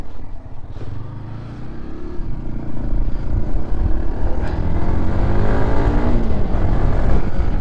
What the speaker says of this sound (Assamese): এতিয়া বাইকখন অকণমান ৰাইড কৰি দেখাই দিওঁ আপোনালোকক